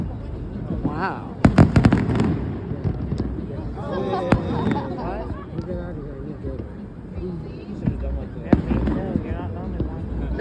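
Fourth of July fireworks at a riverwalk pop and crackle in quick clusters, with a burst of sharp bangs early on and scattered later reports, while people talk and murmur nearby.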